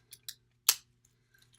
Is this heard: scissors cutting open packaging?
yes